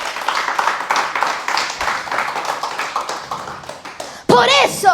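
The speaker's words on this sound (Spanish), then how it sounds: "Dale un mejor aplauso." Church congregation clapping at a sermon, a dense patter of many hands that builds and continues steadily, joined near the end by a loud voice speaking over it.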